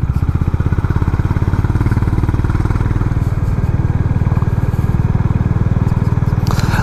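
A Honda CB350 Highness motorcycle engine thumps in a fast, steady rhythm while riding in the mountains, loud and close, with wind rush and faint rattles over it.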